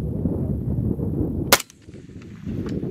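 A single sharp rifle gunshot cracks out loud and close partway through, set against steady background noise, during tuning of an adjustable bolt carrier on a semi-automatic rifle.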